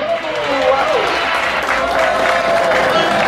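A crowd at a DJ scratch battle in São Paulo applauds a DJ, a loud sustained wash of clapping and cheering with shouting voices over it throughout.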